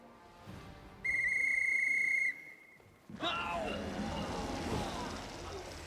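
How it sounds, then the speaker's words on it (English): A dwarf character in a video game blows a rune-decorated whistle, giving one loud, steady high-pitched tone for about a second, followed by a burst of broadband noise. "Pulling a whistle decorated with runes from his pocket, the dwarf brings it to his lips and produces a high-pitched trill."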